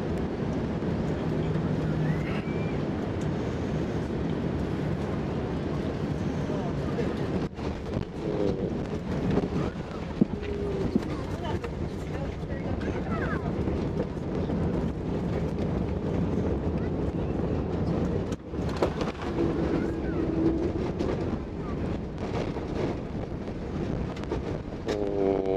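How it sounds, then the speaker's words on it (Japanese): An Airbus A380 airliner comes in to land, heard from inside the economy cabin at Narita as a steady roaring engine and airflow rumble, with faint voices talking now and then. "では着陸です。"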